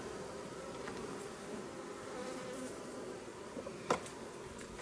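Honeybees swarm over beehive supers set out to be licked clean, a steady close buzzing hum of many insects that runs throughout, with a brief louder burst near the end as one flies close.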